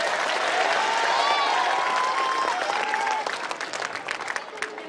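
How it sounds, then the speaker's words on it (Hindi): Loud applause from an audience at a school alumni meet, dense clapping close and full for about three seconds before thinning, with a faint tonal whistle or feedback line running through the start. "एक बार जोरदार तालियां बजाएं।"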